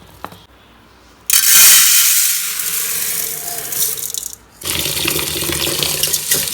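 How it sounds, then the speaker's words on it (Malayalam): Tap water gushes loudly into a vessel while rice is washed in a home kitchen, starting abruptly, briefly cutting out, then resuming with splashing and rattling, up close. "അരി കഴുകാം"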